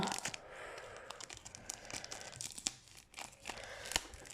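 Tape being torn and peeled off a sealed football card pack, with crinkly rips and crumpling bursts of plastic wrapping, close and fairly quiet with no talking.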